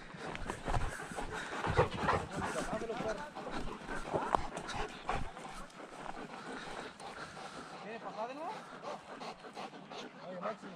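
A dog pants heavily and rapidly close by during an outdoor rabbit hunt, with brief whimpers mixed in and people talking over it throughout.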